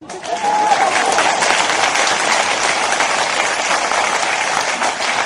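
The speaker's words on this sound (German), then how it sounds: "Für diese unglaublich sachliche und sehr gut argumentierte Ausführung gibt's einmal einen Applaus." Dense, loud applause that swells quickly and holds steady as a continuous wash of clapping from a crowd, alone without talk.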